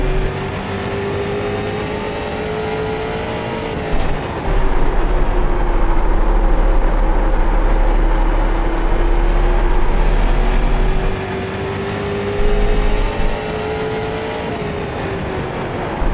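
Street stock race cars in the iRacing video game at Thompson Speedway, a loud steady engine drone that rises and falls with throttle, gears and revs shifting across the lap, continuous and close with no speech.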